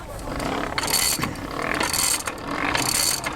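Hand-pumped blower on a blacksmith's forge turning at a settlers' weekend demonstration, a steady whirring with rhythmic ratcheting surges that swell and fade roughly every second as the handle is pumped, close and fairly loud.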